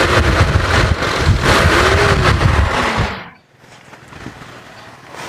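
A 1996 Toyota Kijang KF42 engine revs loudly and close for about three seconds, a dense roar with rising pitch, then drops off sharply to a quieter idle-like rumble for the rest.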